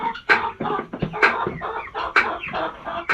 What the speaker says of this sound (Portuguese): Aí os pintos estão ali dentro comendo